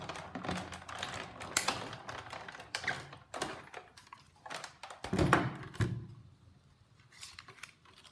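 A die-cutting machine cranking cardstock through between cutting pads, giving a steady run of close ratcheting clicks and grinding thumps with a few louder knocks, moderately quiet.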